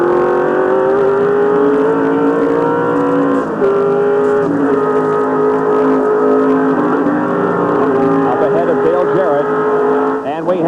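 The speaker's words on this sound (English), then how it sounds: "That's Bill Elliott who passes Dale Jarrett" NASCAR stock cars racing at Watkins Glen in 1988, loud continuous engine roar with revving and shifting pitches as cars pass, a commentator talking over it.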